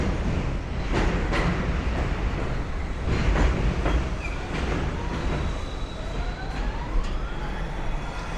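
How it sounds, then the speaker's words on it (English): An elevated subway train rumbles overhead on a Brooklyn street with a loud, steady roar and squealing wheel tones, while a siren wails faintly in the distance. "Sounds like we got a train coming in above us."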